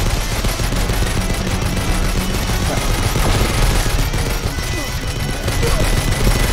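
Rapid gunfire with bullets in the Aracah Stone game, a dense, continuous volley of shots over a busy game soundscape, loud and unbroken throughout.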